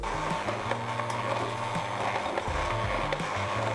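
An electric hand mixer whirs on low speed through muffin batter for apple cheesecake muffins, a steady close motor drone with shifting pitch as the beaters move through the bowl.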